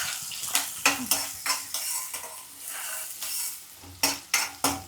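Chopped onion sautés in a pan for a field bean (val) vegetable dish, with a soft steady sizzle broken by repeated clinks and scrapes of a spoon stirring against the metal.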